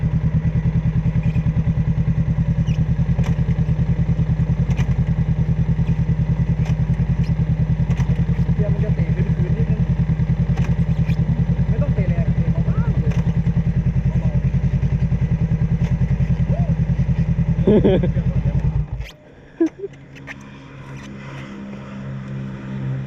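A 2019 Honda CBR500R motorcycle on a test ride, its engine droning loud and steady for about nineteen seconds before cutting off abruptly, followed by a few thumps and quieter ambient sound.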